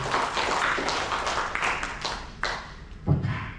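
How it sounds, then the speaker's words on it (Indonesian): A church congregation clapping during a service, bursts of handclaps rising and fading across several seconds with a few louder thumps, fairly close and with no talk over them. "Beri tepuk tangan untuk kemuliaan Tuhan"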